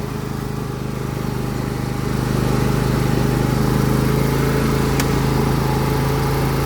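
The engine of a John Deere L118 riding mower runs at full throttle with the choke off, a loud, steady, close droning hum that builds slightly in the first seconds and then holds constant.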